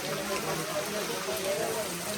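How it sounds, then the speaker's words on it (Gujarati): Heavy sudden rain during an outdoor engagement gathering, a dense steady hiss of drops pouring down without a break, with faint voices underneath. "તમે વરસાદ તો જુઓ એક વખત યાર"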